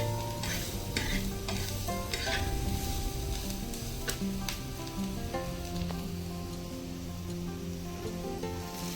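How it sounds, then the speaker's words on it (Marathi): Oil with red chillies, the base for a chitruk wild greens dish, sizzles steadily in a pan while a spoon scrapes and stirs repeatedly, close and continuous. "आणि आता हे सगळं एकदम मस्तपैकी असं करपाटून घ्यायचं म्हणजे असं तळून घ्यायचं चांगलं."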